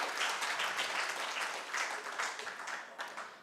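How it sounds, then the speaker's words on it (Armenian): A crowd at a church Christmas gathering applauds with steady, dense clapping that holds for several seconds and then tapers off slightly at the end. "Եկեք բարձր ծափահարենք մեր 50 եւ ավել տարիքի բոլոր քույրերին ու եղբայրներին"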